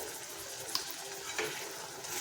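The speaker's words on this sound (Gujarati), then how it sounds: "બધું જ મિક્સ કરી લઈશું એકથી બે મિનિટ જેટલું આપણે એને સાતરી લઈશું" Tomato, ginger, garlic and chilli gravy with salt sautéing in oil for a capsicum and potato curry, stirred briskly with a spoon; a close, steady sizzle broken by a couple of utensil clinks.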